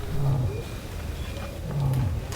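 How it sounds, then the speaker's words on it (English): A lion roars at night on a Tanzanian safari, with two deep, grunting calls spaced about a second and a half apart, heard at a moderate distance. "A lion joins in the chorus."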